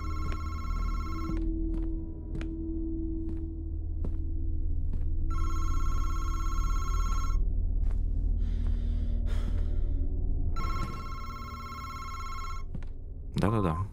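An old telephone bell rings in the horror video game MADiSON, sounding in several long bursts separated by pauses, loud and close over low ambient drones, with breathing and small vocal sounds between the rings.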